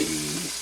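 A steak sizzles in a frying pan with a steady, loud hiss that fades slightly over the moment, close and alone without talking.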